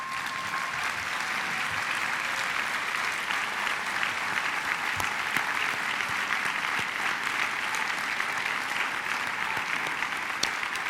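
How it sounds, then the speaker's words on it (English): Graduation ceremony audience applauding in a large hall, dense sustained clapping from many people at a steady level throughout, with no talk over it. "please stand up and give a round of applause to the people who brought you here"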